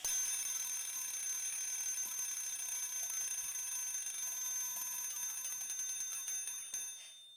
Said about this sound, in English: If the auto alarm bell fails to ring, the M7 control module fails to sound alarm tones